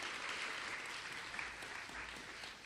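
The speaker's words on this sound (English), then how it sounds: "applause if you want" Audience claps throughout, a fairly quiet, steady spread of many hands applauding at some distance, without letup across the short stretch.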